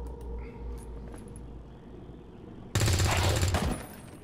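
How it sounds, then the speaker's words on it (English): Gunfire in XCOM 2, a single loud burst of shots bursting out abruptly after a quiet stretch of low game ambience and lasting about a second, with no talk over it. "take the shot, please, and do not miss Axel"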